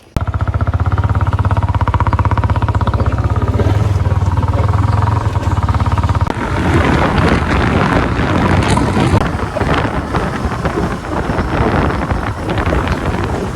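Motorcycle ride near a hilltop view point, a steady engine drone under heavy wind buffeting against the microphone that turns rougher and more turbulent midway.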